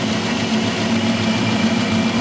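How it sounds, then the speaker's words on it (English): Ford secondary air injection pump running steadily, a continuous loud droning hum with a constant pitch and no breaks, close by, no talking. "energize the air pump like I've been doing"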